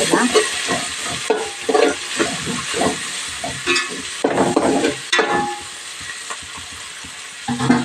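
A spoon stirs coriander powder through mint rice in a pan, steady scraping and stirring strokes over a constant sizzling frying hiss, close and fairly loud.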